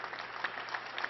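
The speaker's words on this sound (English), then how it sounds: "Let's give a round of applause." Brief, light applause from a small group at an outdoor clean energy announcement, scattered claps with a few sharper hits, fairly quiet and distant.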